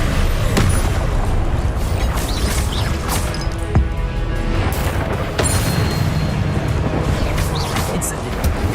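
Spells cast in combat in Hogwarts Legacy: a steady stream of booms, sharp cracks and crashing impacts over a dense rumbling bed, loud and close, with a voice speaking alongside.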